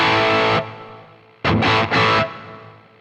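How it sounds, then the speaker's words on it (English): Electric guitar run through a Boss GT-1000 with reverb, heavily distorted: a sustained chord rings and fades, then a few more struck chords with a reverb tail dying away, alone with no talking. "the sound of the reverb with the GT-1000 sounds like this"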